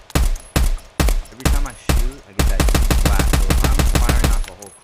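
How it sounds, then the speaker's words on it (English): An MDR 7.62x51 rifle fires in Escape From Tarkov, first as five loud separate booming shots, then as a sustained rapid burst of automatic fire lasting about two seconds before stopping. "Every time I shoot, I get that huge blast. So if I'm firing off a whole clip,"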